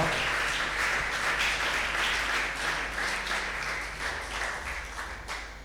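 A church congregation applauding during a Sunday evangelical service, a dense, sustained wash of clapping that holds steady and slowly fades slightly over several seconds, with no speech on top.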